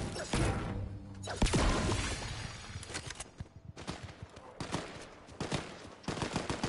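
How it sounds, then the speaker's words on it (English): Gunfire in the video game Fortnite crackles loudly and close in dense, rapid bursts, with shots stacking into near-continuous volleys and brief gaps between them. "More gunfire."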